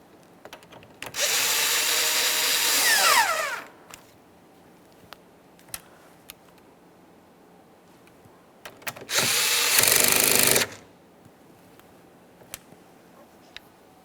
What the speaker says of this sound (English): When tightening the mounting nuts, let's go till they're bottomed out and then turn them an additional quarter turn.